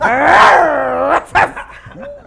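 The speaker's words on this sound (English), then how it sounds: "A dog barking?" A dog gives a long, loud growling howl up close, followed by a couple of shorter barks and yips that trail off.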